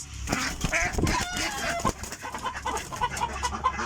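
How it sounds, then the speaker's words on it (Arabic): A domestic hen brooding a clutch of duck eggs gives low, soft clucks and murmurs, close and steady over the whole stretch, with small rustling movements in between. "هذه الدجاجة البلدية"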